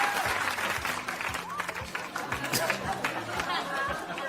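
Studio audience applauding and cheering, loud clapping mixed with excited chatter and crowd voices throughout.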